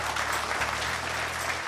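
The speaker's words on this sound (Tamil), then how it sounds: "ஒரு கைத்தட்டு இல்லையா அம்மாவுக்காக" An audience applauds a young singer on a singing-contest stage, clapping in a steady, close wash for under two seconds with a faint hum underneath.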